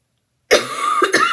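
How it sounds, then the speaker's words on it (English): A single sharp cough bursts out of silence, followed by a couple of rougher coughs and throat clearing, close and loud. "I'm so sorry about the cough"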